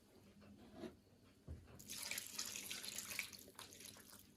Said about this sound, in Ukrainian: я додаю воду, але можна додати м'ясний бульйон